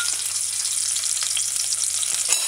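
Ginger frying in a pan for a sweet potato rundown: a steady close hiss of sizzling oil fills the whole stretch, with faint stirring ticks and no voices.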